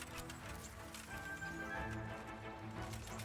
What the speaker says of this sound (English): Get away from my horsey.